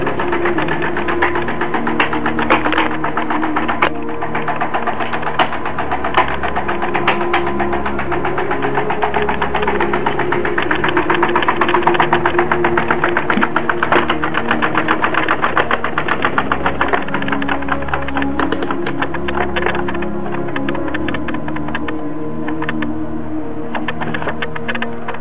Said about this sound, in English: So this is the Newman motor with 147 volts.